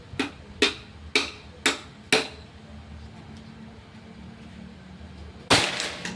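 Five sharp, evenly spaced shots from a Predator Pajero Gen 6 air gun during an accuracy test, each a crisp near crack with a short decay, followed after a pause by a louder, broader impact or shot.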